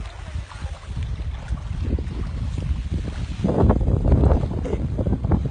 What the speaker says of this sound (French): un peu de vent, c'est ça qui est un peu dommage